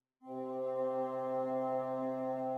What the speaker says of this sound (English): And here, listen to the bassoons.